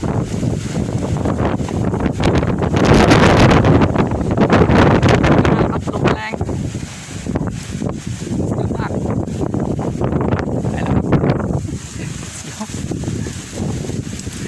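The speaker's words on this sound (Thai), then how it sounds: "ลมแรง น่ากลัวครับ" Strong wind buffets a mountaintop in gusty, roaring surges that hit the microphone hard, with people talking intermittently underneath.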